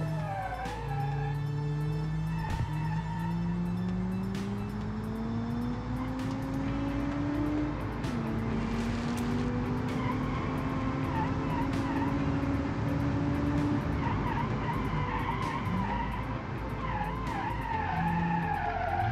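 A 300 hp all-wheel-drive hatchback in BeamNG brakes hard and skids, tires howling in a long rising and falling squeal over steady engine and road noise, loud and close, without talk.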